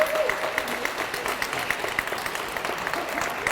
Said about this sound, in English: So give Andrew Dinsmore a round of applause.